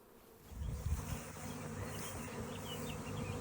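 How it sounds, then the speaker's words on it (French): A swarm of honeybees in flight during swarming, a continuous low droning buzz that swells early and holds steady, mid-distance and fairly quiet, with no speech. "le bel essaimage en live"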